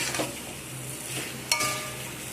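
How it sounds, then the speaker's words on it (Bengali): Potatoes, egg and young jackfruit tossed with spices in a pan, quiet stirring and soft sizzling with a few faint utensil scrapes against the pot, no talking. "মশলার সাথে সব কিছুকে ভালো করে একসাথে কষিয়ে নেব।"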